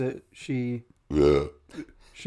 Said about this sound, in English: She burps real quick.